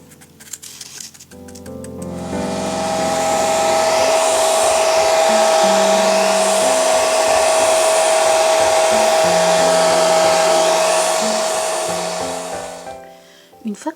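A hair dryer on its cold setting blows steadily over a freshly painted Christmas wreath, starting after a couple of seconds, holding a loud constant whir with a high whine for about ten seconds, then cutting off near the end.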